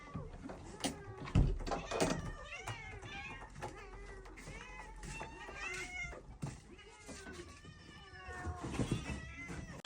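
Several cats in an animal shelter room meow repeatedly, some close and loud, others fainter, with rising and falling cries and occasional bumps, while a person speaks softly between them.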